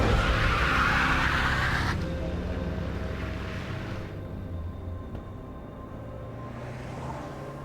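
A car speeds off with its tires skidding, a loud screeching, roaring burst at the start that eases into a fading engine rumble as the car pulls away.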